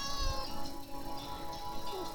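A cat meows with a drawn-out, slightly plaintive call over steady background noise, close and moderately loud, with no talking.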